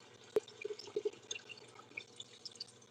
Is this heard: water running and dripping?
yes